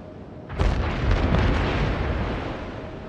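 Battleship guns firing high-explosive shells in the naval combat game World of Warships: a single heavy booming salvo that rolls on into a long, loud rumbling decay.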